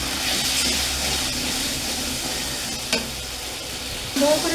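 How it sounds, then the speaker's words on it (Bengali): Cashews and almonds frying in a pan of oil while making moong dal, a steady soft sizzle with a couple of brief stirring clinks near the end. "দুটো তিনটে কাজু আছে আর এই কাঠ বাদাম আছে এটা আমি দিয়ে দিলাম"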